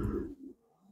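Pigeons coo in a breeding loft, a single soft, low throaty call close by that fades quickly into near silence.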